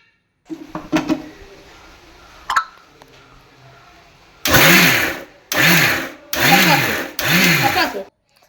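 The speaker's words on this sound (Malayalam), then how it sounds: "അതിലേക്ക് ഇട്ടിട്ട് മൂടി വെച്ചിട്ട് മിക്സിയിൽ അടിക്കുകയാണ്" Mixer grinder blending drumstick leaf chutney in four loud, close bursts of whirring motor that rise sharply and cut off between pulses, after a few quieter clicks and handling sounds.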